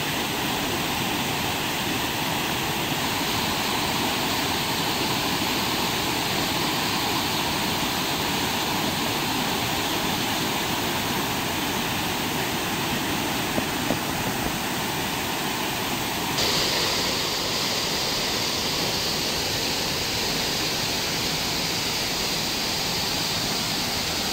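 Laktas Falls, a waterfall in Dingalan, Aurora, gives a steady, loud, broadband roar of falling water that fills the whole stretch with no break and no voices.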